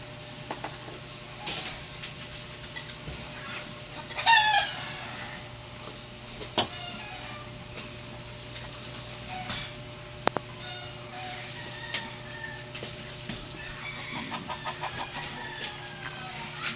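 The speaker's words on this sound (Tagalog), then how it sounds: "Maingay ang manok." Chickens cluck now and then and a rooster crows once at a house construction site, the calls moderately near over steady background hum with scattered clanks.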